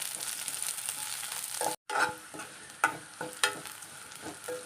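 Green chillies sizzle in a pan with sautéed onions, ginger and curry leaves for a coconut-milk curry. A steady bright crackle is broken by a brief silence, then returns with sharper pops and stirring scrapes.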